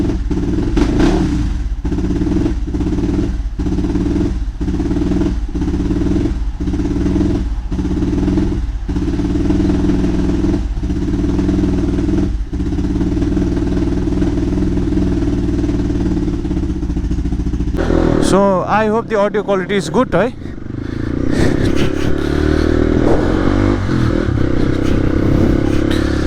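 A motorcycle engine idles with a steady rhythmic chug and regular pulses, then a burst of revving and clattering roars up near the end, loud and close, with someone speaking briefly.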